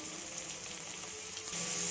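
Small-cut chayote pieces frying in a pan for a home-cooked palya, a steady broadband sizzle that holds even for the whole stretch and grows slightly louder near the end, with no voices.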